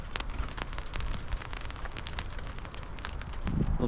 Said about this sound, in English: Little mini hailstorm.